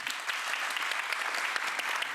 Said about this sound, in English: First, big applause for her.